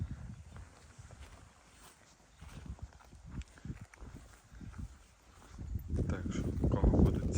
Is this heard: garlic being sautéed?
no